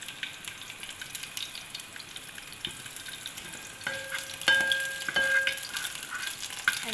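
Chicken sausages and kebabs frying in hot oil, a steady close sizzle with crackling pops that swells louder midway as more pieces go into the pan.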